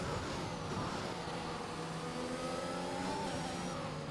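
A Formula 1 car engine in the F1 21 video game at Belgium, a high, strained whine whose revs waver and dip as the car runs over a curb, with other cars droning underneath.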